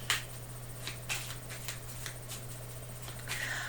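Regular playing cards being shuffled for a cartomancy reading: soft repeated riffles and slaps against a steady low hum, close and fairly quiet, no voice.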